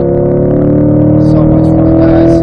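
Engine note of a C8 Corvette accelerating on a race track, loud and close, rising steadily in pitch with a dense layered drone, while a voice speaks over it.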